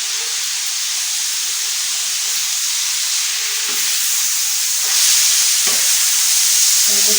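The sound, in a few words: tomato and red chili paste added to frying keema, sizzling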